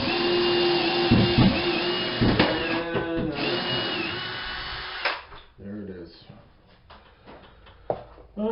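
Power drill backing 3-inch screws out of a laundry room cabinet, whirring in steady bursts that stop and restart, followed by clunks and handling noise, with people talking nearby.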